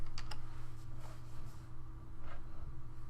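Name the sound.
typing on a computer keyboard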